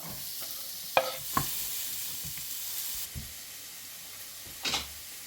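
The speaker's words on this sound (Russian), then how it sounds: "И обжариваем лук до золотистости." Onion sizzles and hisses steadily in hot vegetable oil in a pan, frying until golden, with occasional clinks and scrapes of stirring nearby.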